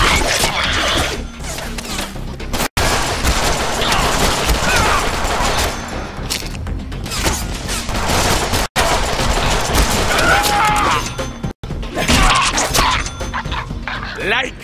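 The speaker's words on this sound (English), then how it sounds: "Now I have a machine gun!" Machine gun fire in the Deadpool video game rattles in dense, continuous bursts under loud shouting voices, with brief cuts between stretches of chaotic combat noise.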